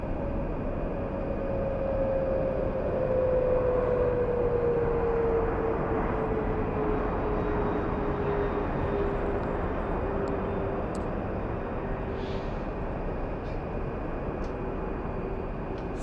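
A fixed-wing airliner departs Los Angeles International Airport, its broad jet roar holding steady from a distance with a slowly falling engine whine, and no voices over it.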